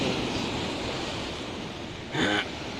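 Ocean waves wash against an eroding village shore with a broken concrete breakwater, a steady close roaring hiss with one brief louder surge.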